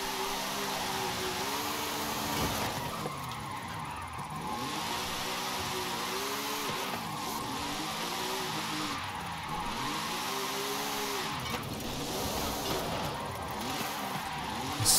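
Car engine in Forza Horizon on a weird custom tune, a mid-pitched motor steadily revving up and down in repeated sweeps, loud and continuous with no talk over it.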